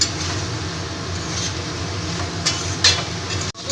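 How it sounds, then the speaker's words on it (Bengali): Fried potato and cauliflower pieces being stir-fried with spices, a continuous close hiss of sizzling oil broken by a few scraping clatters of the spatula against the pan near the end. "এবার ভেজে রাখা আলু আর ফুলকপিটা দিয়ে মশলার সাথে কষিয়ে নেব ভালো করে"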